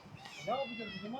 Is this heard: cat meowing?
yes